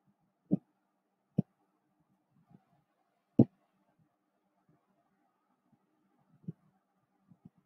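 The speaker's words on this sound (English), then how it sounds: "Click on this." Computer mouse clicks, four or five sharp isolated taps spaced unevenly over several seconds against near silence, close and fairly quiet.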